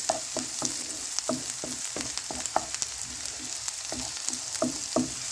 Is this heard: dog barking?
no